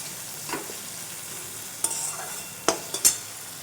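Tomatoes with salt are stirred in a hot pan over a low, steady sizzle, broken by a few sharp scraping clinks of the spatula against the pan.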